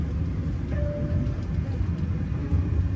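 KA Purwojaya passenger train rolling into Tegal station, heard as a low, steady rumble with faint rattling, close and continuous for a few seconds.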